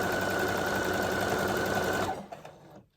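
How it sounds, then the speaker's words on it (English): A sewing machine runs steadily and loudly, stitching down the loose side of a piece made from fabric scraps, then stops about two-thirds through, leaving a few faint handling sounds. "I was just sewing that loose side down"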